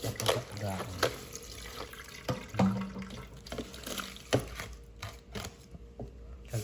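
Tap water running in a kitchen sink while ingredients for pancit molo are rinsed, a steady wash with clinks of utensils and a voice speaking briefly.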